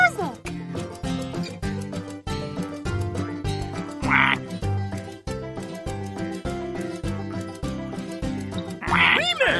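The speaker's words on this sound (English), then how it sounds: "Quack." Cartoon duck quacks ring out in a Sesame Street farm music game, set against a bouncy rhythmic backing track with steady beats, other animal-like croaks and a voice popping in over the music.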